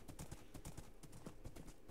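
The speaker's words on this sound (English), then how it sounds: "Running off in a random direction with a horse." Horse hooves clip-clop in quick, even succession in the Minecraft video game, a faint, rapid rhythm of hoof taps lasting under two seconds.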